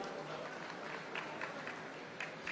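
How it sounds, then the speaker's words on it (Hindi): A crowd at a political rally in Haryana welcomes guests being honoured with turbans, giving a faint, steady wash of applause with a few brighter clap bursts and no voices. "तालियों से स्वागत कीजिए"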